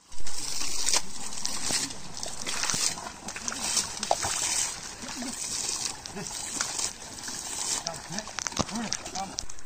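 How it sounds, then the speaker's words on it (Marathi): Water splashes and sloshes in a flooded rice paddy in the Konkan during planting, with repeated close splatters and wet thuds running throughout, while voices talk over it. "काही ठिकाणी पाणी पोचताना तिकडे शिंपून घे, पाणी उडवायचं."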